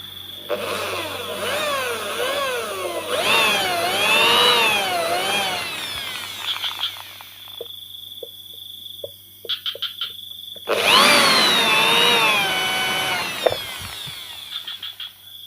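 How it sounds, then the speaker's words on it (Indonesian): A power drill bores a 2 mm deep hole into a Honda Supra PGM-FI motorcycle engine part, whining in loud bursts that rise and fall with pauses, then a final long drilling run, close up. "Udah kita lakukan pengeboran sedalam 2 mili ya."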